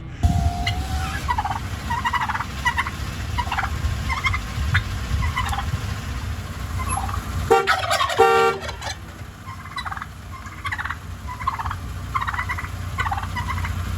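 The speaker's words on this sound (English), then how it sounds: "I have the world's 2 most aggressive turkeys ever blocking me from leaving my backyard" Turkeys gobble aggressively in repeated bursts close by in a backyard, over a constant low rumble of background noise.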